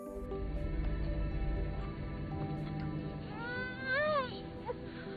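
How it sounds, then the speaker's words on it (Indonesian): A baby's cry plays from a video on a phone, with a short wavering wail rising late in the clip, thin and muffled beneath a cartoonish background score. "Tak lama kemudian pria itu mendengar suara tangisan"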